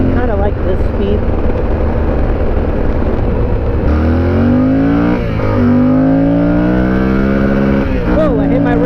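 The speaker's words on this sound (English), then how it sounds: "Whoa, I hit my rev limiter," An off-road motorcycle engine roars loudly on a forest trail, revving up and holding at a high pitch against the rev limiter, then dropping and climbing again through shifts, heard close under the rider's helmet.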